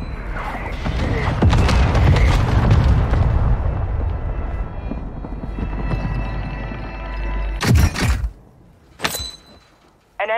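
Mortar shells exploding in Call of Duty: Modern Warfare II Warzone 2, beginning with a long, heavy rumbling blast that slowly fades, then two sharp, separate bursts close by.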